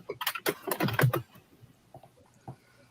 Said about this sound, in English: is typing so loud?